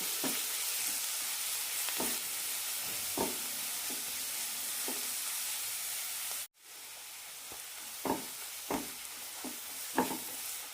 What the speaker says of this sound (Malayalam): ഇതിലേക്ക് ഇഞ്ചി വെളുത്തുള്ളി പേസ്റ്റ് ഇടാം ഒരു മിനിറ്റ് നന്നായി വഴറ്റി കൊടുക്കാം